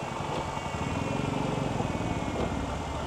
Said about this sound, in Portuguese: O amigo vai dar partida para a gente escutar aqui o ruído do motor.